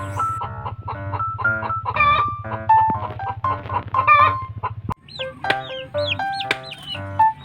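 Chickens cluck and squawk steadily nearby, with a rooster's crow breaking in, amid a busy farmyard of overlapping chicken and duck calls.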